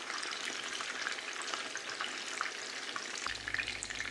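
Chicken kababs frying in oil give off a steady, even sizzle with small crackles, moderately quiet and continuous, alone without voices.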